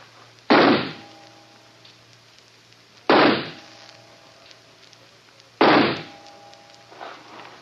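Three sharp pistol shots are fired at a target in a radio play, each a loud close crack with a short decaying tail, spaced about two and a half seconds apart, with no talking between them.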